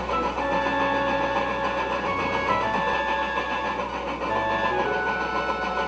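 A diesel locomotive engine starts and settles into a steady, moderately loud idle rumble with shifting tonal hums, heard alone without voices.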